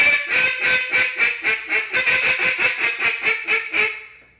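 A duck call blown in a rhythmic calling routine, a close, loud series of about fifteen evenly spaced raspy quacks that trail off at the end, with no talk.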